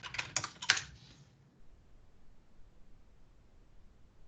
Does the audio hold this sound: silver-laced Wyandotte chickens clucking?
no